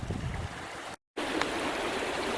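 Water in a forest river in Mount Oxford Forest Park rushes in a steady broadband wash, close and continuous, briefly cut out by a short gap before resuming.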